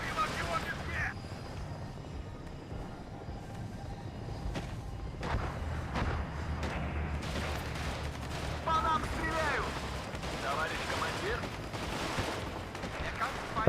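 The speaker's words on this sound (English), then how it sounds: "Those nasty machine guns, man. Nasty machine guns." Machine gun fire and scattered gunshots in the WARNO video game, repeated bursts over a busy battle soundscape at moderate level, with someone talking over it.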